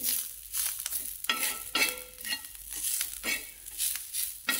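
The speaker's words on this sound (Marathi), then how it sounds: "कोथिंबीर टाकायची, ती पण भाजून घ्यायची" Coriander leaves roasting in a pan, with soft sizzling and repeated scraping stir strokes in an uneven rhythm, close up and with no one speaking.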